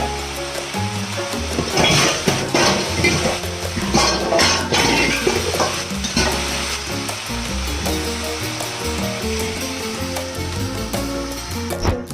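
Chicken gizzards and chicken breast for adobo cooking in a pan, a steady close sizzle and bubbling frying noise that runs throughout with occasional clatter of a utensil against the pan.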